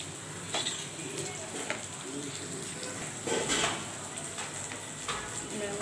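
Poppy seeds fry in a pan with dried red chili, giving a steady hiss and sizzle broken by occasional scraping stir strokes close by.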